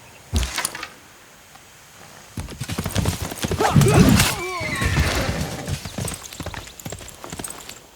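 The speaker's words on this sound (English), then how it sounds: "Oh, horsey, yay! Horsey, horsey, you need to be careful." Horse hooves clip-clopping in the strategy game Civilization VI, a steady run of close, rhythmic hoofbeats with a whinny, after a brief knock and a short pause.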